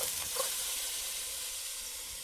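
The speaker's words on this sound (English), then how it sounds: "So I've added the garlic, the onions, and the olive oil. I'm letting it saute a little bit." Garlic and onions sauté in olive oil, giving a steady soft sizzle and hiss that stays fairly faint and even, with no talking.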